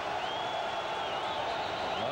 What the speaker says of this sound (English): the crowd is becoming a factor now